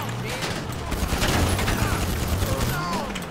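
Rapid pistol fire from an AP pistol during a GTA Online firefight, dense overlapping shots crackling steadily throughout amid game noise, with voices talking underneath.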